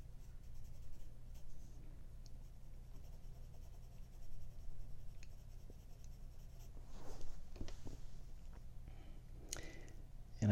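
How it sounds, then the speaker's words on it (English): A pencil sketches an apple drawing, with a steady close scratching of graphite on paper throughout and a few brisker strokes and taps near the end; no one talks. "I am going to shift to sketching in some information up here first"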